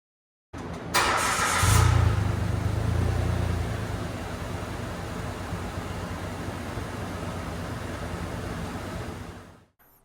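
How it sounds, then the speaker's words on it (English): A car engine cranks and catches, giving a brief louder surge as it starts, then settles into a steady, even idle close by. "I'm going to start the car up now to show you guys"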